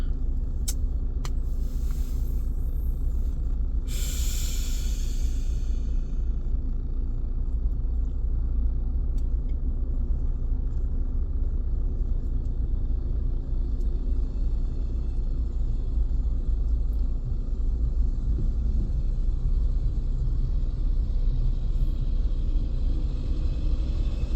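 Low, steady rumble of idling and creeping cars and trucks stuck in a traffic jam at Karangtengah, with a brief hiss of air brakes early on and engine drone throughout.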